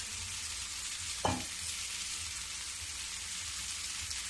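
Pieces of bottle gourd fry in oil in a pan, a steady soft sizzling hiss running throughout, with one brief clink of a utensil early on.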